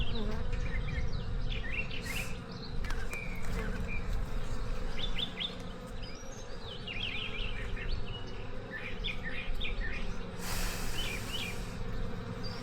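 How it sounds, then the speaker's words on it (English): Steady, dense buzzing of many honey bees and drones close by at an open hive, a continuous low drone with occasional faint chirps of birds in the background. "now that I'm looking for her, I'm seeing bigger bees, I'm seeing drones"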